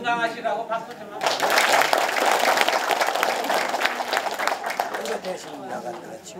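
A crowd at a township New Year visit in Jeongan-myeon breaks into sustained applause for an elder standing in for the seniors' association president, steady clapping filling the room with a few voices mixed in.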